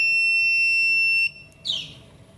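Alarm of an Arduino-based SMS security system, a loud continuous high-pitched electronic tone that cuts off abruptly, followed by a brief short beep.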